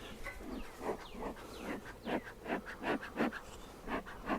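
Bees pour out of a freshly opened hive at a vineyard, faint buzzing swelling in quick repeated surges as insects fly past up close.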